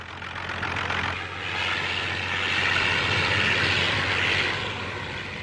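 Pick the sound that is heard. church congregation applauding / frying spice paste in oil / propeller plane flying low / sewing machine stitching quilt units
propeller plane flying low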